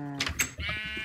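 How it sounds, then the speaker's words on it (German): A sheep in the video game Minecraft gives a short wavering bleat, near and moderately loud, with a couple of bleating bursts in quick succession inside a penned sheep enclosure. "Und weitere Schafe erzeugt hier."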